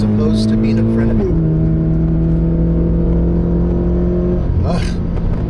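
A 2017 Toyota 86 engine holds a steady, loud hum with shifting pitch while canyon carving, its note changing around a gear shift, with faint talk mixed in throughout.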